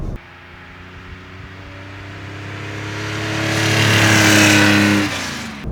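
A 1971 Porsche 911 2.2 T in original condition drives along, its engine droning steadily with a gradual rise in revs and loudness toward the end, heard from inside the car with no talking.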